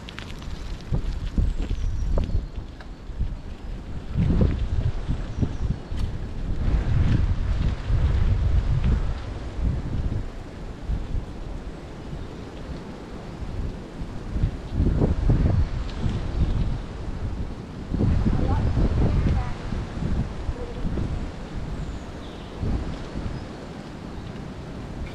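Wind buffets the microphone during a bike ride through Causey Arch forest in England in spring, coming as loud, rumbling gusts that swell and fade throughout.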